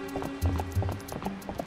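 Clip-clop of a horse's hooves in the video game Zelda Twilight Princess, a few quick, fairly close beats over a low in-game background with some harmonic tones.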